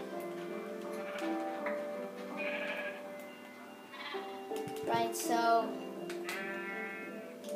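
Sheep bleat a few times in a Minecraft game, mixed with ticking sounds, while a person talks briefly over them.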